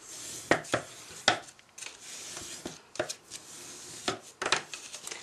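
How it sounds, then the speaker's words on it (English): Paper card folded along score lines: a series of sharp creasing taps and soft rubbing scrapes, close and fairly quiet, irregularly spaced with a few louder snaps, no talking. "Then you're going to fold the next set of score lines, which is the 1 1/4. Fold those ones in."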